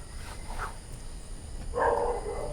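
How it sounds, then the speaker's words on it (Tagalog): Dogs bark at night in the countryside, a few distant, muffled barks rising over a faint background hum. "wala kang ibang maririnig dito kundi kuliglig tsaka aso"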